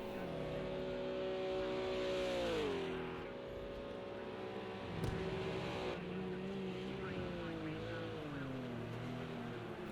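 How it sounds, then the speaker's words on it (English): A GT3 race car in the Project CARS 2 sim drifts wide into turn 1 at the Texas road course, its engine droning steadily with pitch sweeps as it slides, loud and continuous throughout. "beautiful drift for us from Phantom Hamster coming down into turn 1, running a little bit too wide"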